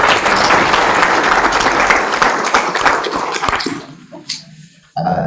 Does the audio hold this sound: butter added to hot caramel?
no